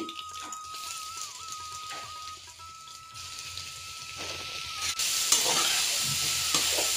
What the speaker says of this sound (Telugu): ఇప్పుడు మనం మిల్ మేకర్ అయితే ఫ్రై చేసుకోబోతున్నాం అనమాట